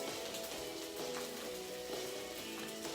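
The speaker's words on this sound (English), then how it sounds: "So you can hear it sizzling there." Kale and onions sizzle steadily in a frying pan, a soft continuous hiss with faint crackles running throughout at low volume.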